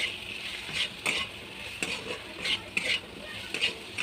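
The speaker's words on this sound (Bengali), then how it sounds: "এগুলোকে ভালো করে নাড়াচাড়া করে নিয়ে" Okra curry seasoned with salt is stirred in a sizzling pan, with repeated rhythmic scraping strokes rising over a steady frying hiss, close and fairly loud.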